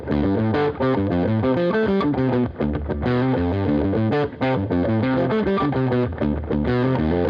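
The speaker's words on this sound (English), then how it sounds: "revisits that intro riff, but an octave lower and with a bit of distortion, a bit of gain on it now" A distorted electric guitar in Drop D tuning plays a chugging, repeating riff an octave lower, loud and dense with gritty overdrive, notes struck in a steady rhythmic pattern.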